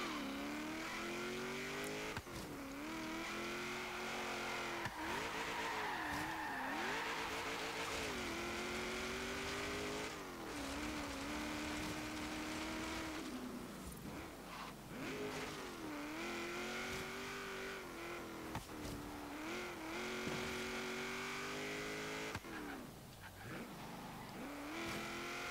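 The engine of a 1972 Ford Falcon XA GT-HO in Forza Horizon on an autocross course roars loud and close throughout, rising and falling with repeated revving and gear changes, with bursts of tyre squeal and no talking.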